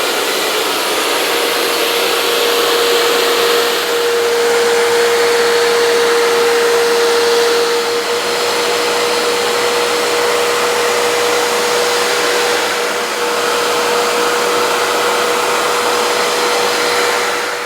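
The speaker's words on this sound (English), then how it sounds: "we want to pull that product out using our carpet extractor" A carpet extractor steadily draws water and dirt out of a car mat, a continuous loud suction whine with a droning tone, close and unbroken.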